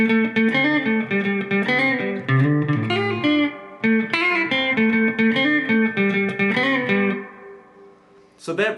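Electric guitar plays rhythm figure 1 and then parts 1 and 2 of a song riff: loud, dense, slightly distorted chord strums in a steady rhythm, ending with a ringing chord and a short strike.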